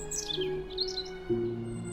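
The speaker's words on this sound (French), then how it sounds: "s'approcha de l'oiseau blanc et le caressa" A small white bird chirps in a French fairy tale, light high tweets arriving in quick clusters over a soft tonal music bed, fairly faint, with no talking.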